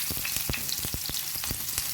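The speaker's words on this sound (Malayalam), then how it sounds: "ഇത് നല്ലപോലെ ഒരു 10 സെക്കൻഡ് സോട്ട് ചെയ്ത് കഴിയുമ്പോഴത്തേനും" Green chilli, garlic and ginger sauté in hot oil in a pan, giving a steady crackling fry with rapid spitting pops throughout, close and fairly loud, with no talking.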